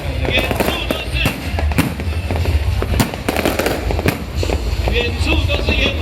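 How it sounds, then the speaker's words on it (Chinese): New Year fireworks burst over Taoyuan, seen from a hillside restaurant, with a continuous barrage of booms and crackling pops near and far, and voices talking underneath. "在这一刻，全部的烟火都齐放了哈！"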